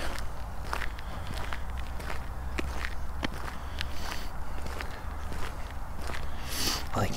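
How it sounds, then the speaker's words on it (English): Steady footsteps on a walk through a quiet outdoor spot, the crunching steps close and regular, repeating evenly throughout with no voices over them. "All I can hear is footsteps."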